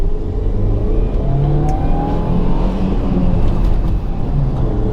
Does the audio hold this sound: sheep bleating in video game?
no